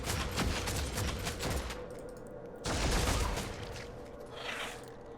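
Gunfire in the Warhammer 40000: Deathwatch Enhanced Edition video game: two loud bursts of rapid shots, each fading into rumbling echoes, with no talk.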